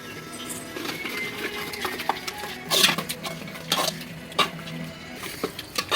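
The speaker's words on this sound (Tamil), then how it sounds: "கொஞ்சம் நேரம் தக்காளி வெங்காயம் பச்சை மிளகாய்லாம் நல்லா வதங்கிட்டோம்" Tomato, onion and green chili sautéing in a pot while being cooked for chicken biryani, with a soft continuous sizzle and irregular scrapes and clatters of a stirring utensil against the pot, close and moderately quiet, no talking.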